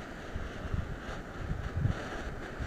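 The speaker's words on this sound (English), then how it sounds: "A little bit of wind out today, not much." Light wind blowing outdoors, a steady low rumbling buffet across the microphone with small gusts and no voices.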